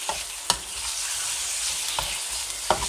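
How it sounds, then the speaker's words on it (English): Pork coated in sweet sauce fries with garlic in a pan for Thai pad see ew, giving a continuous loud sizzle broken by a few clinks and scrapes as a utensil stirs it. "we're just going to fry that. Give it a good stir around, make sure to get all the garlic mixed in there"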